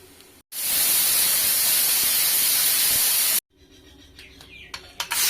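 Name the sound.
pressure cooker releasing steam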